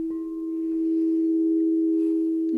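A crystal singing bowl rings with one pure, sustained tone that holds steady and clear throughout, swelling slightly in loudness, close and alone with no voices.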